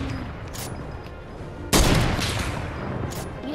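Shooting video game gunfire: a loud, close burst breaks over a steady noisy background, preceded by fainter shots, with no talking.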